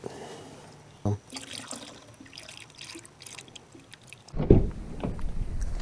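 Coolant poured through a funnel into the inverter reservoir of a second-generation Toyota Prius, a steady trickling and splashing that swells into a louder gush near the end.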